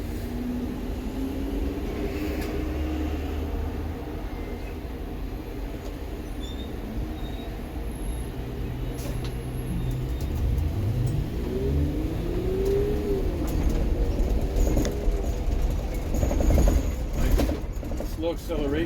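A 2020 Blue Bird rear-motor electric school bus accelerating slowly onto a freeway, with a rising motor whine and steady road rumble inside the cabin, and someone talking over it.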